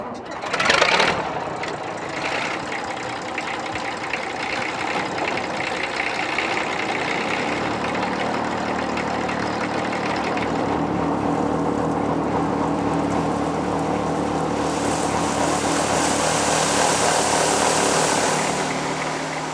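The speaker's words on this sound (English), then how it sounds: "a Fordson E27N Major with a 45 horsepower Perkins P6 engine is providing the power" Fordson E27N Major tractor with a 45 horsepower Perkins P6 diesel engine powering a Gehl blower blowing corn into bins, a steady loud mechanical drone with a brief louder burst near the start.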